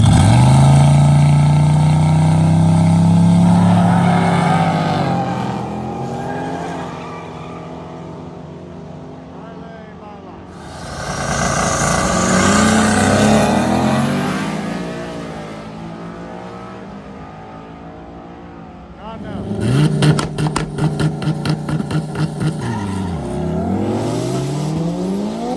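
A turbocharged drift car revs hard at a drift and drag event, its engine note rising and falling loudly through several sweeps, with crowd voices and cheering mixed in.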